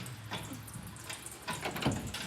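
Watery transmission fluid drains from a 1959 Ford Galaxie, a steady close splashing stream with uneven gurgles and spatters, no voices over it.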